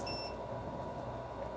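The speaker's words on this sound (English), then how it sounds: "I heard the beep, so it's up to temp" A KSGER T12 hot air station gives a short electronic beep on reaching temperature, a single brief tone over a steady airflow hiss.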